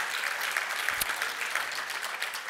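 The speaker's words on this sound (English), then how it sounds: "go ahead and cheer for that" Audience applause at a keynote talk, a dense, steady wash of clapping filling the room throughout, loud and continuous with no voice heard over it.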